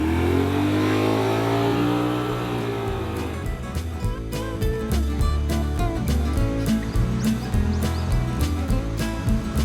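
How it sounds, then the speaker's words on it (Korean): A motorcycle engine revs loudly and pulls away, its rising then falling drone giving way to busy clattering and engine noise as it rides off. "저 오토바이로 바람같이 달려가가지고 불법 현수막을 제거하도록 하겠습니다."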